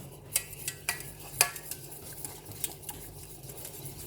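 White sauce is stirred in a pot as it begins to boil, with a utensil clinking and scraping against the pan in irregular taps over a low background hiss.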